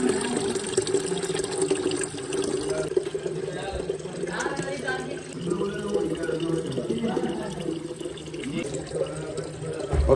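Water splashes and trickles as it is poured out for chickens at a fair on a very hot day, a continuous liquid sound with some intermittent background noise.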